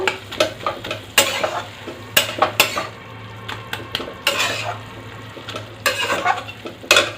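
Red spinach fry with sesame and a little sugar stirred in a pan, a spoon repeatedly scraping and clattering against the metal in irregular bursts over a low steady hum, with no one talking.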